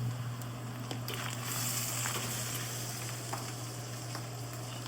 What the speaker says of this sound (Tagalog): fried lang natin ito ng konti